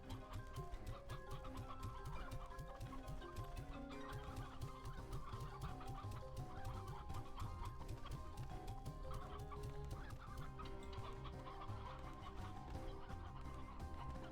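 Chickens cluck continuously in the video game Slime Rancher 2, a busy overlapping chorus of short clucks and chatter with clicking game sounds, steady and faint, no voice.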